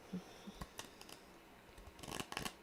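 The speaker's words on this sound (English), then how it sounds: "these cards are so tiny. It is so awkward to shuffle them." Small tarot cards are shuffled by hand, giving quiet, irregular riffling clicks and flicks that build into a busier burst of card snaps near the end.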